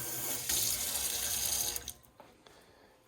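Water spraying and hissing from a leaking plumbing valve in a workshop, a steady close rush of spray that cuts off abruptly partway, leaving a few faint drips and trickles.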